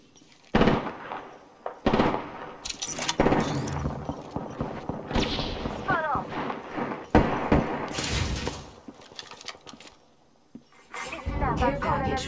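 Gunshots crack in sharp bursts during a squad battle-royale firefight in a video game, loud and irregular with pauses between volleys, while voices talk over the shooting.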